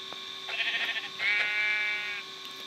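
Goat bleating in Minecraft, two wavering, nasal bleats in quick succession, clear and close over a steady background hum.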